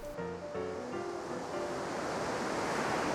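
Small ocean waves breaking at Collaroy beach, a steady loud wash of surf that builds and holds across the whole stretch, with a few faint tonal notes near the start.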